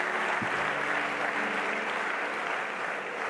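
An audience at a December master's graduation ceremony claps in a dense, steady burst of applause that holds evenly and fades slightly toward the end.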